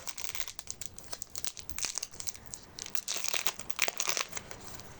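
Crinkly foil being torn and crumpled open up close, a run of sharp rustling bursts lasting several seconds with no talking, as a collectible animal card packet is opened.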